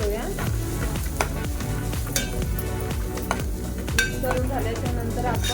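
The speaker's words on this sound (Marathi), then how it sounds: "आता आपण घरगुती मालवणी मसाला टाकणार आहोत आणि मिक्स करून घेऊया" Onion, sweet corn and tomato frying in oil as homemade Malvani masala is added and stirred, a busy sizzle with repeated scraping and clinks of a spoon against the pan.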